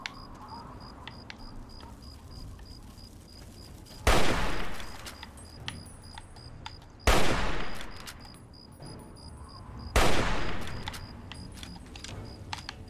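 Three loud, separate gunshot bursts at monsters in Fallout 3, each roughly three seconds apart, with sharp blasts that trail off over a quiet backdrop of faint ticking and a thin steady tone.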